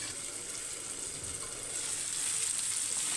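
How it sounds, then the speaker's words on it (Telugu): Chopped tomatoes for tomato rice cook under a lid in a pan, giving a steady soft sizzle and hiss that grows slightly louder toward the end, with no voices. "టమాటా మగ్గే వరకు ఇంకొక 2-3 నిమిషాలు మూత పెట్టుకున్నాం."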